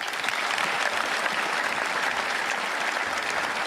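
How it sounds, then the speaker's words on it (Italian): Dense, steady applause from a crowd at the municipal stadium in Zero Branco, continuous and even throughout with no voices standing out. "Gli applausi allo stadio comunale di Zero Branco per Giacomo Gobbo."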